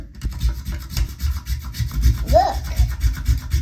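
A mini hacksaw rasps back and forth through a plastic toilet flush valve part in short, quick strokes, close up, with a brief squeak partway through.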